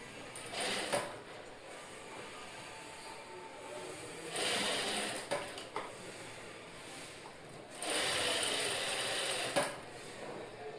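A sewing machine stitches a sleeve joint in three separate runs of fast mechanical whirring and clatter, with quieter handling noises and clicks between them, all close and without talking.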